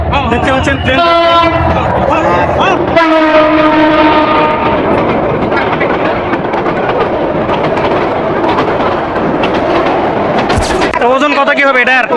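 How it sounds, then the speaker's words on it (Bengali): An intercity train pulls into Nasratpur railway station during a Qurbani cattle market, loud and close, with repeated horn blasts over rolling wheel clatter while people talk in the crowd. "নসদপুর রেলওয়ে স্টেশনের দিকে ট্রেন আসতেছে একটা ইন্টারসিটি ট্রেন আসতেছে"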